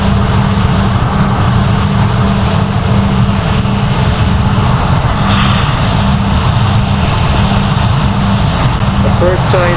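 Loud, steady engine drone of an Airbus A320 on landing approach in the flight game Project Flight, a continuous low roar filling the whole stretch with no clear change.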